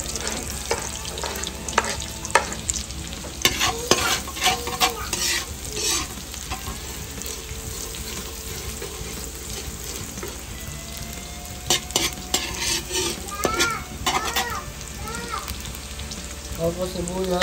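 Garlic fries in hot cooking oil with a dense, steady crackling sizzle, punctuated by bursts of spatula scraping and stirring; a voice speaks faintly in the background.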